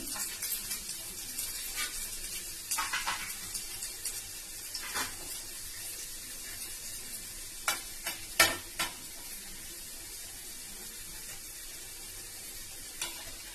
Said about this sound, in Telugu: ఫస్ట్ వెల్లుల్లిపాయ ముక్కలు చిన్న చిన్న ముక్కలుగా కట్ చేసుకున్నానండి, అవి వేసుకుంటున్నాను